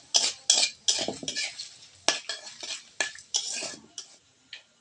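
A metal spoon scrapes and clatters in a pan in quick, irregular strokes, close and fairly loud, stirring dried red chillies and panch phoron whole spices frying in oil.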